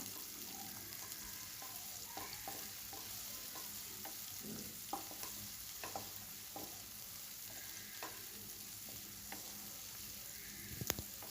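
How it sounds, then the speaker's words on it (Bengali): Sliced onions and green chillies fry gently in oil in a pan while a spatula stirs them, giving a faint, steady sizzle broken by light scraping strokes. "এখন পেঁয়াজ আর মরিচটা নেড়ে চেড়ে ভেজে নেব নরম করে"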